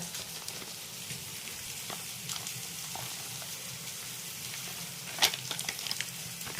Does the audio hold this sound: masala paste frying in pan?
yes